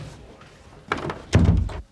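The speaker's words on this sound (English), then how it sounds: "Shut the door." A door pulled shut in a British police station office, giving a short solid thunk followed by a louder, fuller slam-like impact close by, with no talk over it.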